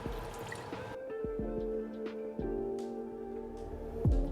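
Sherry is poured into a hot pan of mushrooms, giving a soft liquid splash and a sizzle with brief drips and clinks, close and steady over a low kitchen hum.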